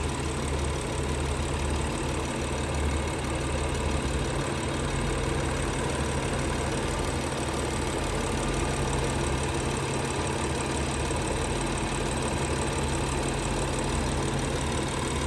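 A 2013 BMW X5 35i twin-turbo engine idles steadily and evenly, a constant mechanical hum with a faint rhythmic ticking, close by and uninterrupted.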